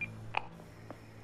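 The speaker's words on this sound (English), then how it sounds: "This is his phone, right? Yeah. Call Bumblebee." Phone dialing a call in the video game 12 Minutes: a brief electronic dial tone at the start, then a couple of short keypad beeps, quiet against a low background hum.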